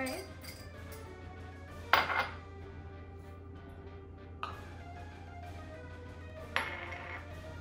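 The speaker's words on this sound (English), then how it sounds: "We're just gonna mix all of our filling ingredients right into the pumpkin puree." Pumpkin pie filling ingredients are stirred into pumpkin puree in a bowl, heard as quiet mixing under a low hum with three sharp clinks of a utensil against the dish.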